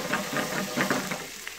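Tomato sautés in a pan with a soft, steady sizzle and a few stirring scrapes, fairly quiet, with no voices.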